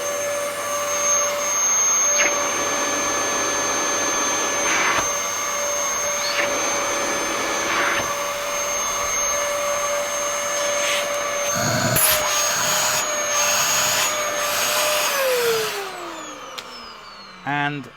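A Dyson DC14 vacuum cleaner runs with a loud, steady whine and airy roar, holding a constant pitch before the motor is switched off and winds down with a falling tone near the end.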